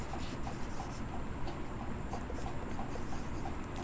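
Continuous scratchy rubbing of writing on a board during a physics lesson on motion, steady and close, with no talk over it.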